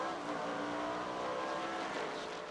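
NASCAR race cars roar past together on the 1997 Topeka track, a dense, continuous engine wash at moderate distance that builds slightly and then fades.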